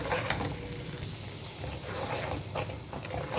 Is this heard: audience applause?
no